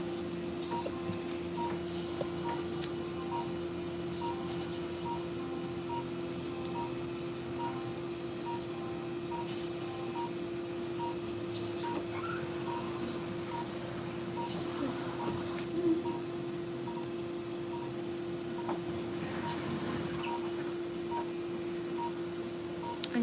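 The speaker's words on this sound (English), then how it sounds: "As you can hear in the back, that noise that kind of like a screeching noise, that is vaser." A Vaser liposuction device runs during a Lipo 360 surgery, giving a continuous high-pitched screech and steady electronic hum with faint periodic beeps, constant through the scene.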